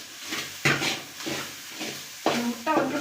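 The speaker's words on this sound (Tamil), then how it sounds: "இந்த முட்டை வந்து நல்லா நம்ம வந்து ரோஸ்ட் பண்ணிக்கலாம்" Egg roasts in a little oil in a pan for an okra egg fry. Soft sizzling comes with intermittent scraping and stirring knocks of a utensil against the pan, in several bursts with quiet gaps between them.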